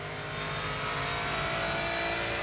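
A Ferrari race car at the Sebring 12 Hours endurance race roars past with a steady, full engine drone that holds loud and even throughout, with no voices over it.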